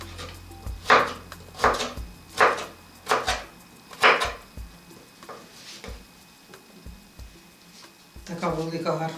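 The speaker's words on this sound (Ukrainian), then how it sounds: "поки що я вам показую на одному слайсі, і нарізаємо соломку" A knife chops a potato slice into julienne strips on a cutting board: about six steady, evenly spaced chops ring out close by, followed by a voice talking near the end.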